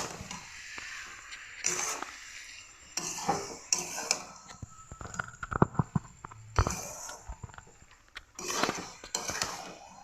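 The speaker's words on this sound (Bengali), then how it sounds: "এটা তো অল্প অনবরত নাড়তে হবে যেন তলে বসে না যায়।" Jaggery being stirred in a wok on a gas stove, repeated scraping strokes and metallic clanks of the ladle against the pan in irregular bursts, close and fairly loud, with brief quiet gaps between.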